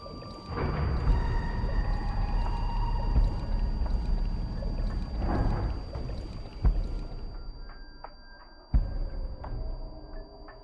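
Flowing, sloshing water in the game AI: The Somnium Files nirvanA Initiative, a steady loud rush for several seconds that swells, then cuts to quieter drips and splashes with a sudden splash near the end.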